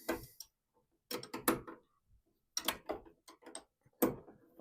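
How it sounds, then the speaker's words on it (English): Open-end wrenches, a pair of 11/16 size, work loose the flanges of a boiler pump, giving sparse metallic clicks and clanks in short clusters separated by silence, close and fairly quiet. "We'll go ahead and loosen up these flanges."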